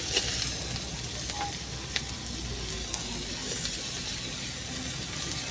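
Onion and garlic fry in oil for cabbage chops, a steady soft sizzle with faint scattered crackles running evenly throughout, close by with no voices.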